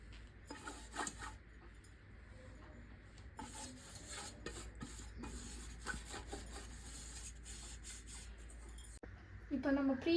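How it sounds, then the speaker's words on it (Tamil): A brush spreads oil over a cake pan for a ribbon cake with soft, faint, repeated rubbing and scraping strokes at close range, steady and quiet throughout. "நம்மளோட கேக் பேனில் ஆயில் க்ரீஸ் பண்ணிக்கலாம்."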